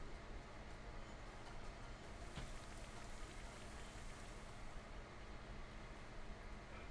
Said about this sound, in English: I'm going to get the Rain Dance off.